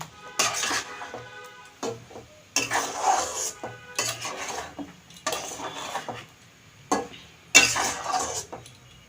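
Chicken being stir-fried in a pan, repeated bursts of spatula scraping and clattering against the metal every second or two, with quiet pauses between strokes and a light sizzle underneath.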